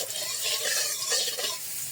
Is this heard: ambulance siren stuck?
no